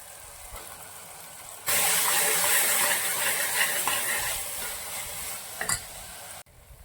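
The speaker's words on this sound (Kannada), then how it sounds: "ಇವಾಗ ಮಸಾಲೆ ರುಬ್ಬಿರೋದು ಹಾಕ್ತದನಿ." Ground masala paste goes into a pan of softened tomatoes and green peas for methi pulao and is stirred, setting off a sudden loud close sizzle that slowly eases before cutting out.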